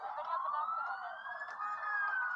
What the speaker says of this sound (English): Maybe some fire engines finally getting there. Here's some sirens.